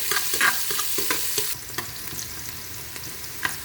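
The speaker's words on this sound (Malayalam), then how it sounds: "സബോള ഒന്ന് ബ്രൗൺ കളർ ആവുന്നത് വരെ വഴറ്റാം" Sliced onions sautéing in a pan for ghee rice, a close sizzle with several quick scraping stirs, louder at first then easing to a softer hiss, no talking.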